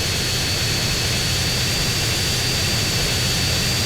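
In GTA San Andreas, a military jet's engine gives a loud, continuous roar with a high whine on top, steady throughout and with no talking.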